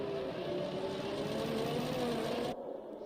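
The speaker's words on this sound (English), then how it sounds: "that's a weird engine noise around here." A Formula 1 car engine in the F1 2020 racing game, a sustained high whining drone with a slowly shifting pitch that cuts off sharply near the end.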